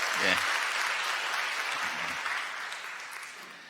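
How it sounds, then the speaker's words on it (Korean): A church congregation claps in congratulation for a young member back from military service, steady clapping that tapers gradually, with a voice briefly audible at the start. "여러분들 역시 축하의 박수 보내주시기 바랍니다"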